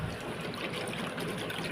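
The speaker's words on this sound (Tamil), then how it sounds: "எடுத்து தண்ணியில் நல்லா வந்து அலசி விடுங்க" Herbs being swished and rinsed by hand in water in a wide vessel, a continuous close splashing and trickling sound without pauses.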